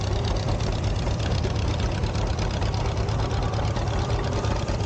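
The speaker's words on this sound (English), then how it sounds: "Austin Krause is driving a John Deere Model A" A John Deere Model A tractor at an antique equipment show runs steadily nearby, its engine a continuous rough, thumping drone with no talk over it.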